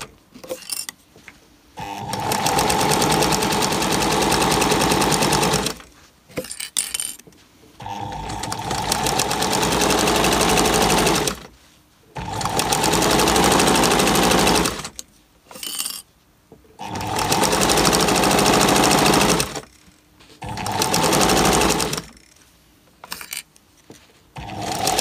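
Sewing machine stitching fabric for a journal's dust jacket, running in four or five loud sustained bursts of steady whirring separated by brief pauses, with no talk.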